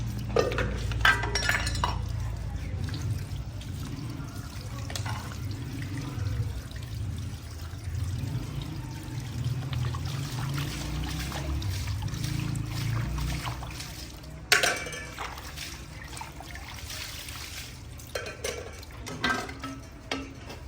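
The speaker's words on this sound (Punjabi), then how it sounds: "ਹੁਣ ਆ ਥੋੜੇ ਜਿਹੇ ਬਰਤਨ ਸੀਗੇ ਮੈਂ ਕਿਹਾ ਇਹ ਧੋ ਲਵਾਂ" Dishes and utensils are washed by hand at home, with running water, scrubbing and scattered clinks of metal and glass, one sharp clatter standing out partway through, over a steady low background.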